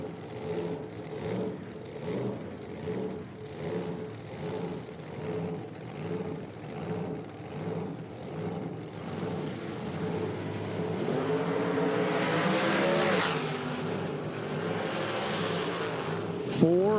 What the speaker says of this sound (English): Comes another one of those loud cars rolling up into the water box.